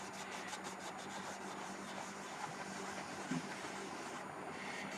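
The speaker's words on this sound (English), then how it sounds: "you can see these areas where I'm rubbing over with the heavier acetone" A cloth soaked in heavy acetone rubs over the finish of a Gibson Flying V guitar body with a faint, continuous scrubbing rasp and a few rhythmic strokes, quiet and close.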